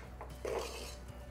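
A spoon scrapes and stirs a mixture of chana dal, coconut, cardamom and jaggery in a pan for a sweet poli filling, a soft, brief scraping close by over a quiet kitchen hum.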